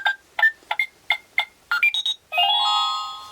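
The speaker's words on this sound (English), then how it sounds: "And then the alarm goes off, like somebody's trying to get in the house." A toy dollhouse door alarm chirps in a rapid series of short electronic beeps, then rises into a sustained warbling tone, loud and close with no talking.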